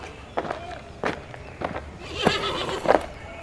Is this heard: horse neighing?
yes